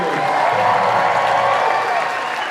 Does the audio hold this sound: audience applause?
yes